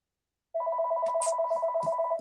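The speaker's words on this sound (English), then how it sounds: "it's not a live stream until the phone rings" A telephone rings during a live sketching stream, a loud steady electronic trill starting abruptly after silence and continuing alone, with a few faint clicks layered in.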